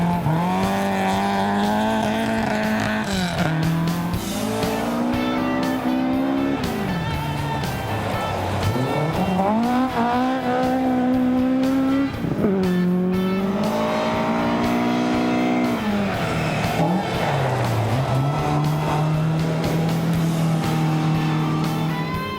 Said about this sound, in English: Drivers like Tuthill relishing the chance to slide their classic cars